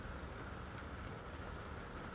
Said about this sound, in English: Nothing beats just listening to the rain.